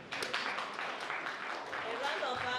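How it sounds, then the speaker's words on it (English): Dense audience applause rolls steadily after a presentation at a scientific conference and annual general meeting, a continuous wash of many hands at moderate distance. "round of applause"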